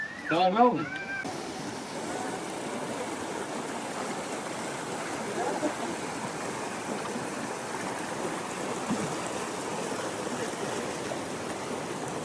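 Rushing floodwater flows steadily in a river, a broad churning roar, with a brief voice-like sound at the very start.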